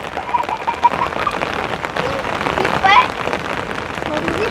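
Steady rain falling on the ground outdoors, a dense even hiss with scattered drops and a few faint bird chirps, no speech.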